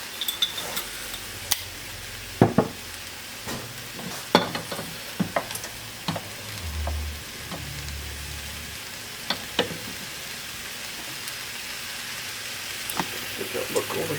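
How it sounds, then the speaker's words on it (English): Soup sizzling in a pot as a dash of vinegar goes in and gets stirred, a steady fry hiss with scattered scrapes and clicks of a utensil; a low voice murmurs briefly in the background. "we are just going to put a little dash of vinegar in that soup to cut through the fat"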